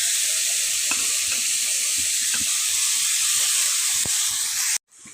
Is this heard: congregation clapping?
no